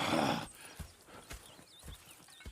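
Horses in the Red Dead Redemption 2 video game clip-clop at an unhurried walking pace, with a burst of rustling noise at the start and faint whinny-like tones in the background.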